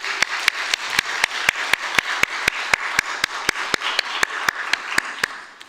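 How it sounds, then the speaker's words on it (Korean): A church congregation claps in a quick, even rhythm of sharp, regular beats at a special New Year worship service, sustained for several seconds before tapering off at the end. "수고한다고 박수 한번 치겠습니다."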